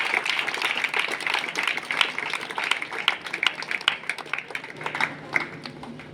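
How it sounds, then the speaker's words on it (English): Pupils and guests at a school science and art exhibition clap for a student group's border security project, with uneven, crackling applause that stays steady throughout. "Give a big round of applause for Arnav and group for border security system"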